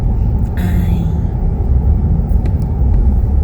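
A car drives along a snowy road, its steady low rumble of engine and tyres filling the cabin throughout, with a voice talking faintly underneath.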